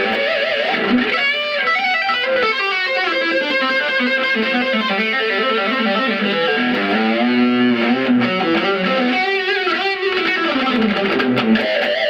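An electric guitar on a humbucker pickup plays through a Fender Vibro Champ XD amp with the gain turned all the way up, giving a loud, heavily distorted, sustained run of notes and chords with no talking.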